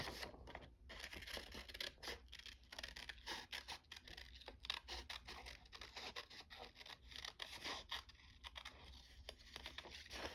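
Scissors cut out a paper figure in a series of close, crisp snips and rustles, irregular in rhythm and fairly quiet, with no talking.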